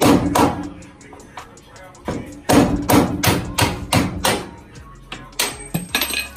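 A hammer strikes a tubular radiator support frame on a twin-turbo LS Foxbody, a run of loud, irregular metallic thuds and taps, close up, with brief gaps between clusters of blows.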